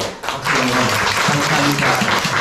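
A church congregation claps for a choir after its hymn: dense, steady applause filling the room for a couple of seconds, with a voice speaking over it.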